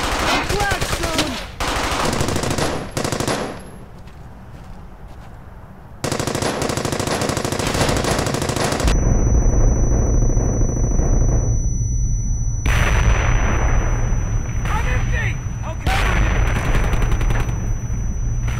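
Sustained machine-gun and rifle fire in the World War II shooter Brothers in Arms Hell's Highway, loud, dense bursts layered with explosions and a steady battle rumble throughout.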